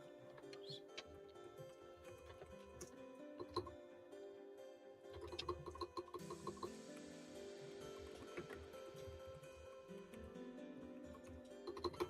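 Keyboards clatter in an office as several people type at once, steady overlapping clicks running throughout with a busier burst midway; quiet background chatter and light laughter mix in.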